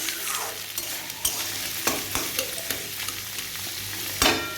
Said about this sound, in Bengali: এই সবজিগুলোকেও 3-4 মিনিট ধরে একটু ভালো করে ভেজে নেব।